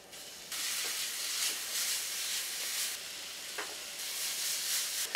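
Peaches, garlic and shallots sauté in olive oil and butter, giving a steady bright sizzle that swells as the fruit drops into the hot pan, with faint stirring clinks.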